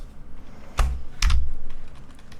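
A mechanical keyboard with smooth linear red switches is typed on in two short bursts of close, muted key presses.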